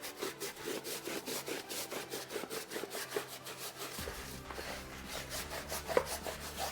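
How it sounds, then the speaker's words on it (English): A semi-stiff wheel brush scrubbing a car surface in quick, rhythmic back-and-forth strokes, close and steady, with a low hum joining partway through. "you're gonna go ahead and just scrub it away"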